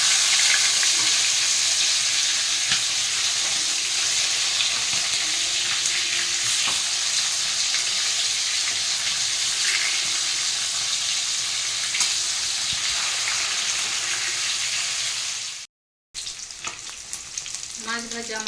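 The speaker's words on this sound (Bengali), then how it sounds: "মাছটাকে উল্টে দিচ্ছি আর 1 পিঠ ভেজে নেবো।" Katla or rui fish, just flipped, sizzles loudly and steadily in hot oil for a Bengali fish kalia, a close continuous crackle with a brief cut near the end.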